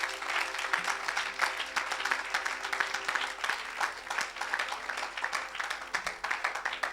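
A crowd at a church service in Abidjan applauds steadily for several seconds, with dense, even clapping that holds at a moderate level throughout.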